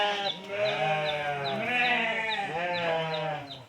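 Lambs bleating on a small farm with chickens around, several overlapping wavering cries following one another in quick succession, close and loud with no talk.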